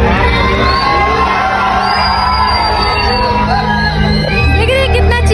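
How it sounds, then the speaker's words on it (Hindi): Large cinema audience at a housefull screening of the film Salaar, loudly shouting, whooping and cheering together in a dense, continuous roar that swells near the end. "देख रहे कितना चिल्ला रहे हैं,"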